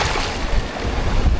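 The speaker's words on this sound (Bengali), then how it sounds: "সমুদ্রে কিন্তু দারুণ ঢেউ" Sea waves roll and break on the beach at Mandarmani, a steady broadband wash with low surging swells and wind buffeting the microphone, close and fairly loud throughout.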